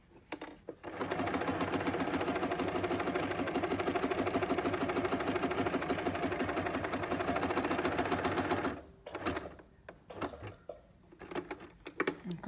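A sewing machine stitches fabric around curves for about eight seconds in a steady, rapid mechanical whirr, then stops; a few quieter clicks and handling sounds follow, with no talk.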